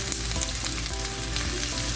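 Vegetables and garlic for chicken chow mein hit a hot pot, a loud dense sizzle with crackling spatters throughout, close by and with nobody talking.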